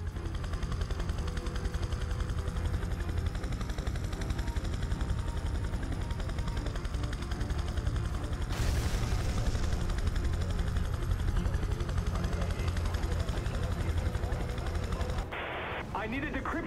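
Helicopter landing on a helipad in the video game Prototype 2, with a steady loud rotor and engine drone and layered gunfire-like clatter, joined midway by a louder burst of noise, with radio voices faintly underneath.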